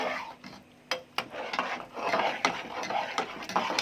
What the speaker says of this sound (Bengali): এবারে ভালোভাবে মিশিয়ে নেব।